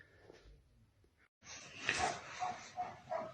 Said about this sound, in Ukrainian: Собака гавкает овчарка.